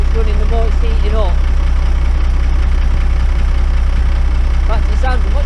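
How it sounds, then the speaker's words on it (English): A warming-up car engine with a misfire idles steadily and loudly up close, its low rumble continuous throughout, with faint voice-like tones drifting over it near the start and end. "Misfire, but it's sounding better the more it's running, the more it's heating up."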